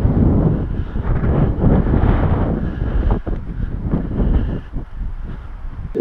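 Strong wind buffets the microphone outdoors beside a flexible antenna mast on a windy day, a loud, continuous rushing roar that swells and dips for the whole stretch with no voices.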